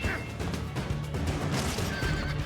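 Horse neighing in the video game Assassin's Creed 2, a whinny over busy game sounds with faint clip-clop.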